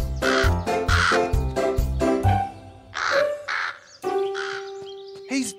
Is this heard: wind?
no